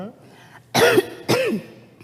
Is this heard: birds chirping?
no